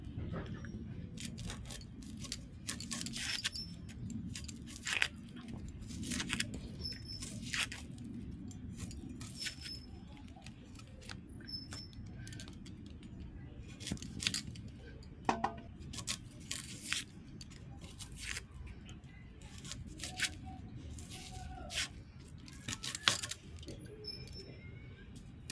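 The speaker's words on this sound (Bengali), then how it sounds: "এবার পেঁয়াজ কেটে নেব।" A knife chops onion into large chunks on a board for a turmeric cauliflower dish, giving a series of light, quiet taps and clicks in an uneven rhythm.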